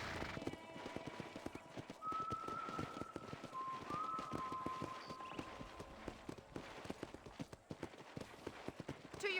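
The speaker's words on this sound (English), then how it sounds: "let's see if you can still ride a horse" Horse hooves clip-clop steadily during a ride in the Red Dead Redemption video game, an even rhythmic trot that runs throughout with faint whistling tones above it.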